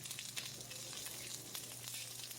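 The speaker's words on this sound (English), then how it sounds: "I don't know if you can hear that sound, but that's what? Sizzle." Chicken pieces sizzle steadily in hot frying oil, a dense, continuous crackle with small pops scattered throughout, close and fairly loud with no voices.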